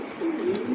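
A domestic pigeon kept by a pigeon seller gives a soft, low coo close by, a brief rolling call standing alone.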